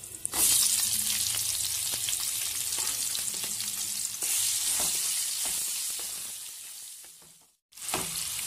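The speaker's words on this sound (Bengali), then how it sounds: "পেঁয়াজ আমি ভালোভাবে ফ্রাই করে নেব।" Chopped onion fries in hot oil spiced with black cumin, dried chilli and asafoetida, a loud, continuous sizzle broken by stirring scrapes, then a brief dip toward silence before the crackle picks up again.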